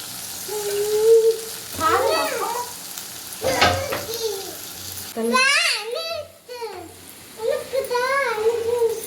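Onions and tomatoes fry in a pan for a meal maker (soy chunk) gravy, giving a steady soft sizzle beneath frequent high-pitched child vocalizations and some adult talk, with occasional stirring clatter.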